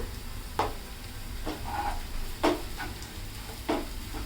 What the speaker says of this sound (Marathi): हे सर्व एक मिनिट तेलामध्ये चांगलं परतून घेऊया